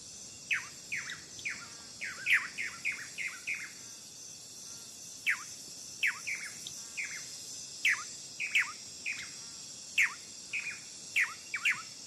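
Dancer birds, rare species endemic to a Brazilian forest near Rio, give repeated sharp chirping calls in irregular bursts over a steady high insect drone, moderately close and clear with no voices.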